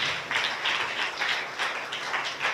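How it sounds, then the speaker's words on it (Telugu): Church congregation clapping in praise during a Sunday service, a fairly faint, steady patter of many hands with a loose rhythmic pulse, heard alone without speech. "నమ్మిన వాళ్ళు చప్పట్లు దేవుని స్తుతించారు."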